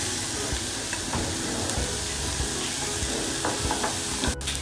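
Vegetables lightly frying in a pan for hot and sour soup give off a steady, dense sizzle. Occasional soft clicks of stirring break through the hiss.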